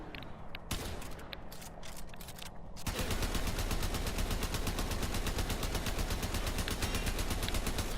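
A Tiberon Prime rifle firing in semi-auto in the Warframe game: a few scattered shots, then a dense unbroken stream of rapid shots that runs loud to the end.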